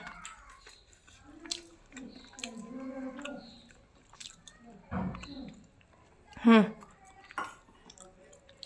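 Someone chews breakfast with soft, wet mouth sounds and a few crisp bites, partly under ongoing talk, with a louder crunch near the end.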